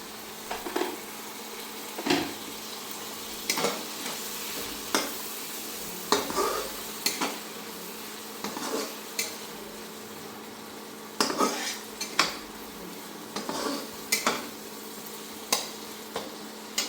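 Fish masala sizzles in a pan while a spoon stirs it, sharp metallic scrapes and knocks recurring irregularly over a steady frying hiss.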